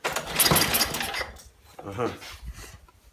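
An MTD Yardworks snow blower with a Tecumseh engine is pull-started, giving two short mechanical cranking bursts close by that do not catch into a steady run.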